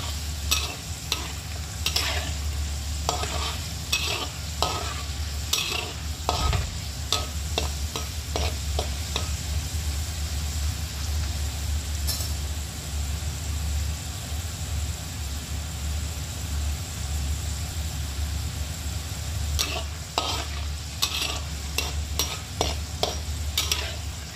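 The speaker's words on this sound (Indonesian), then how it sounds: "Kemudian saya masukkan lagi kentangnya. Kita goreng sampai semuanya matang" Potato pieces frying in hot oil with a steady sizzle, while a utensil stirs them and scrapes the pan in repeated bursts near the start and again toward the end.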